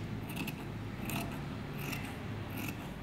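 Scissors snip through fabric for a girl's top, four short crisp cutting strokes spaced at an even rhythm, close and clear against a quiet room.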